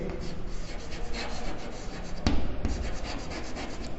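Chemical names being written on a board, a steady scratchy rubbing stroke close by with a brief louder knock partway through.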